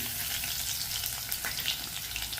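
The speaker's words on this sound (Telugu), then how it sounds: "ఆయిల్ వేడైందండి. ఇప్పుడు ఒక చిటికెడు ఆవాలు, ఒక చిటికెడు జీలకర్ర, ఒక 4 వెల్లుల్లి రెబ్బలు" Mustard seeds, cumin and garlic cloves fry in hot oil for a Telugu tempering, giving a loud, close, steady sizzle with crackling pops throughout and no talking.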